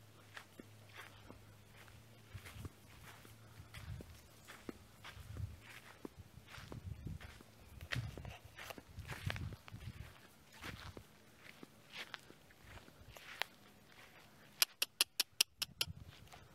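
A Tennessee Walker horse walks through a pasture, its soft hoof falls faint and fairly regular outdoors, ending in a quick burst of sharp clicks.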